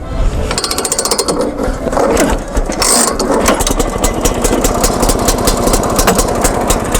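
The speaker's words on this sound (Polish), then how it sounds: "Jest to silnik jednocylindrowy, dwusuwowy, pojemność 372, moc 11 koni mechanicznych." A single-cylinder two-stroke engine of 372 cc and 11 horsepower runs steadily after a pull start, its rapid, even firing pulses loud and close for the whole stretch with a metallic mechanical clatter over the top.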